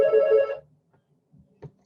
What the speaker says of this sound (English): That's my phone, 3 more rings and it'll stop.